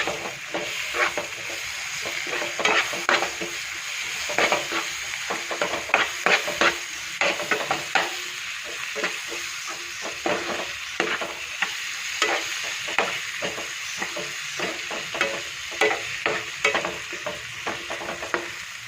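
Tomato frying in a pan with chili powder while being stirred, a steady close sizzle broken by repeated scraping strokes of the spoon, with no voices.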